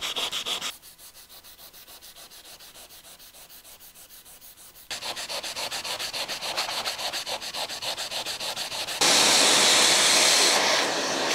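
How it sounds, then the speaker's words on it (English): A 120-grit sanding block rubs by hand over wood filler on a baseboard, making steady back-and-forth scratchy strokes that change in intensity across several passes, close up and with no voices. "I'm taking my sanding block. This is 120 grit. And we should just be able to lightly sand off"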